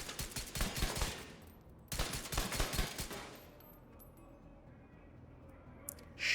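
Two bursts of rapid video game gunfire, the first running about two seconds and the second a little over one, each loud and dense, followed by quieter ambient game sound and a faint click near the end.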